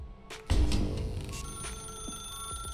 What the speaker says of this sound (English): Now pick up telephone.